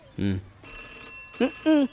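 A telephone rings with a steady, high electronic tone that keeps going while people speak over it in a dubbed action thriller.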